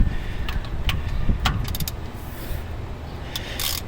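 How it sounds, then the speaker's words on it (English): A large half-inch drive ratchet works loose the carburetor bolts on a Quadrajet, giving a few close, sharp clicking bursts of the pawl over low mechanical background noise, with no talking. "you don't need a ratchet this big to take carburetor off"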